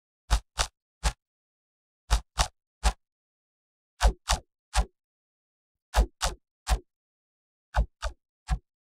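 The zappy snap layer of a Diablo IV lightning magic sound effect: short, crisp cracks arriving in tight groups of three, repeated about five times with clean silence between them.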